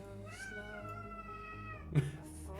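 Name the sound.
pet cat meowing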